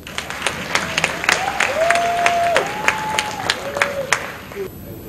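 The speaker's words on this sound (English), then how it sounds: "Let's clap for Jesus." Applause during a church wedding ceremony in Lagos, crowd clapping steadily with sharp individual claps standing out, while a sustained tone glides and holds beneath it.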